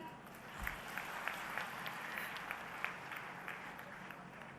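A small audience at a Madhya Pradesh women's self-help group meeting gives steady, faint, thin applause that carries on for several seconds, with some scattered louder claps.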